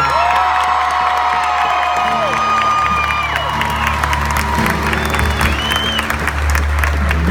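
A Grand Ole Opry crowd at a country music show applauds and cheers for a performer, loud sustained clapping with whoops over a low hum, continuous and close.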